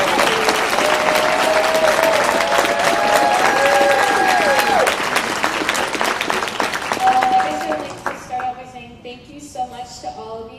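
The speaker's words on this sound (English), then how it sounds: "Especially for that large applause." A large audience at a 2014 Gold Star Gala award ceremony applauds loudly in a dense, sustained roar of clapping. The applause thins and fades after about eight seconds as a voice begins speaking.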